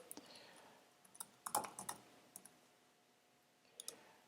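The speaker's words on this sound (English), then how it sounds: "I'm going to type the username password" Someone types a username and password on a computer keyboard: a few quiet, scattered key clicks with a denser burst in the middle and a short flurry near the end, close by and with no talk.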